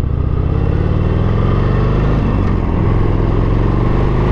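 A Harley-Davidson 72 motorcycle under throttle during a test ride, its V-twin engine a loud, steady low rumble with a throbbing exhaust pulse and rushing wind, heard alone for a few seconds.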